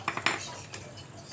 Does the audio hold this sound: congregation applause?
no